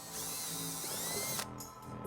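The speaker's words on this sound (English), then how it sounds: "using a 5/16 drill bit, we're gonna go ahead and drill a couple of small holes in the bumper fascia" A power drill with a 5/16 bit bores into the plastic bumper fascia of a 2009 Hyundai Sonata, whining at high speed close by, then slowing and stopping as the bit breaks through.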